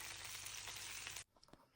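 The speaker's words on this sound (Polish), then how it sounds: "Na rozgrzany olej wrzucamy kurczaka i całość mieszamy." Chicken pieces hitting hot oil in a frying pan give a broad, hissing sizzle that holds steady for about a second, then cuts off abruptly, leaving a few soft clicks and stirring sounds at low volume.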